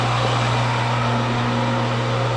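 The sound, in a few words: dairy farm pump pumping water and acid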